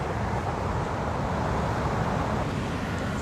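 Steady, loud ocean surf and wind at the shore make a continuous broadband roar with no breaks, and no voices are heard.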